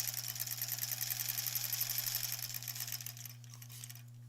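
A sewing machine stitches quilt pieces for the back of a granny squares quilt, running steadily and close by for about three seconds before slowing and fading out, with no talk.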